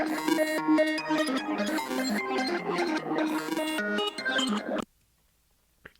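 A bright Serum synthesizer melody plays in quick layered notes for several seconds, with lows cut and a shaper effect, then cuts off abruptly into near silence with one faint blip.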